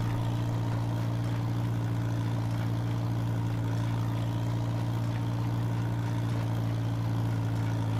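Tractor engine in the Farming Simulator video game idles steadily, a low droning hum with a constant pitch that holds loud and even throughout, with no talking over it.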